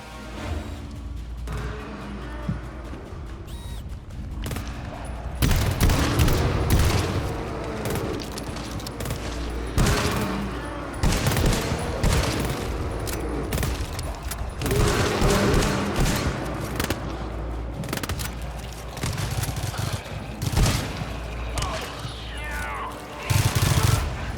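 Sentry turret firing in the co-op shooter GTFO, dense rapid automatic bursts mixed with booms and crashes, continuous and loud amid chaotic combat noise with occasional voices.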